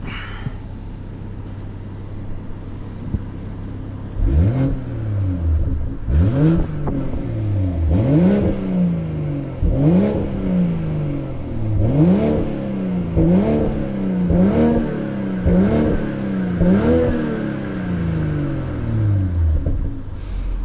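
A 2022 BMW M240i xDrive turbocharged engine with a high-flow catted downpipe and stock exhaust revs repeatedly, each blip rising sharply then dropping, about a dozen throttle pulls in a steady rhythm, loud and close.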